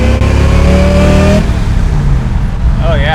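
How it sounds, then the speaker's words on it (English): Supercharged 1970 Camaro hot rod accelerating hard after a shift into fourth gear, a loud, close engine roar rising in pitch, briefly dropping at the shift, then pulling again with a voice talking over it. "Let's shift her into fourth and see"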